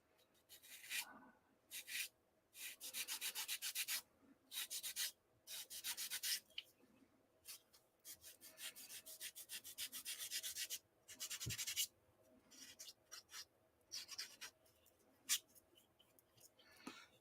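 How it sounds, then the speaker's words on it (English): Hand sanding of a resin pumpkin, close but quiet, in repeated scratchy strokes of varying length separated by short pauses. "This is also the first time I've worked with resin, so it'll be interesting to see how it sands and all that."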